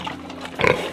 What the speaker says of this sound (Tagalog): Mabait naman yung baboy eh.